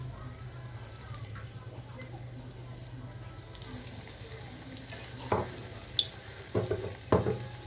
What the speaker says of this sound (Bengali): তার আগে বেগুনিগুলো ভেজে নিই